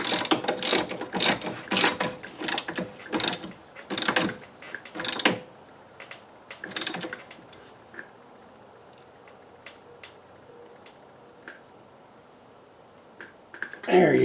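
A torque wrench ratchets in rapid bursts of sharp clicks while a bolt on a 1997 Audi A4 Quattro is hand-tightened, close and crisp, followed by quieter, sparse ticks and a final burst of clicking.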